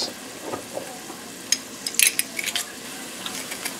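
Onions sweat in a pan of butter and olive oil, giving a soft, steady sizzle with scattered sharp clicks and taps of a utensil against the pan, close and fairly quiet.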